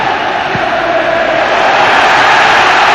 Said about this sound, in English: And the crowd lapping this up now.